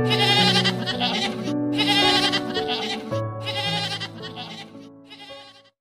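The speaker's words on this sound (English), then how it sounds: "G for goat. G for goat." Goat bleating in a phonics song, long wavering calls repeated several times over musical backing, loud and close.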